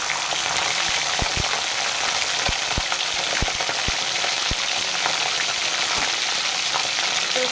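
Steady, close sizzle of mixed vegetables deep-frying in oil until browned, with potato and pointed gourd pieces in the pan, a dense continuous crackle broken by occasional sharp pops and utensil clicks, and no voices.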